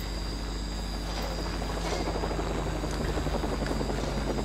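Steady rotor thrum and engine whine of a helicopter in LEGO Jurassic World, constant and fairly close, with no talking over it.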